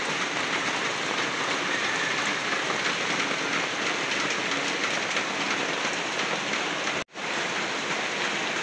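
Heavy rain pours steadily on a surface, a dense continuous hiss with a brief cut near the end.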